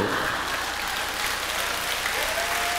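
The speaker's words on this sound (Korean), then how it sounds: "이렇게 박수 받아본 적이 없어요" A church congregation applauds during a Sunday service, a steady, dense wash of many hands clapping together that holds evenly at full strength with no voices breaking through.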